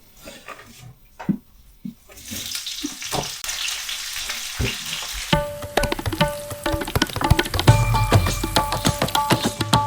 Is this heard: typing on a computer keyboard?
no